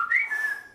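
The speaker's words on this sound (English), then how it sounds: "I can't even whistle." A person makes a short, breathy attempt at whistling: one thin tone that wavers slightly in pitch and fades within a second, with no talking over it.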